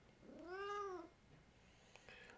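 A house cat gives one clear, drawn-out meow close by, rising and then falling, followed by quiet room sound and a few faint clicks.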